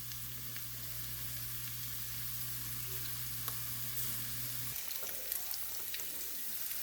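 Onions sizzle steadily in a little oil in a pan, a continuous close frying crackle with a low hum that cuts out near the end, leaving the sizzle and faint stirring clicks.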